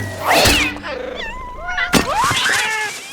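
A cartoon cat in an animated film lets out strained, wavering yowls and meows after being struck by an arrow. The cries rise and fall in pitch and come in close, loud bursts with a thump in the middle.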